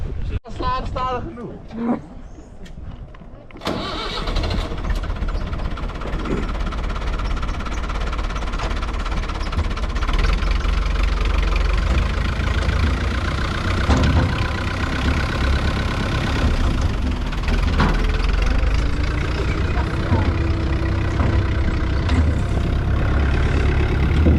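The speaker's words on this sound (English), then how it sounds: "Onto the tractors we go. Are you guys ready for your tractor ride?" A heavy tractor engine idles steadily with a low rumble, following a short burst of clatter at the start; rumbling continues throughout with occasional knocks.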